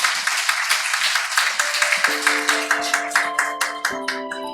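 Worshippers at a Korean dawn church prayer service clap together in a steady, even beat. The sustained tones of worship music rise in partway through and play alongside the clapping.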